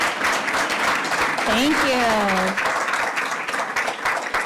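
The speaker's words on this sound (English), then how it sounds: "would you please stand this time so we may recognize you with applause?" Audience applause at a school district board meeting as parents of yearbook staff members stand to be recognized, a steady broadband wash of clapping running throughout with someone speaking briefly over it.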